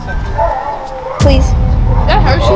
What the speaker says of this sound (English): Did you guys hear that howling?